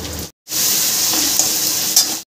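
Chopped onion and tomato fry in a pan with oil, giving a loud, steady sizzle after a brief silent gap, with faint stirring scrapes in the hiss.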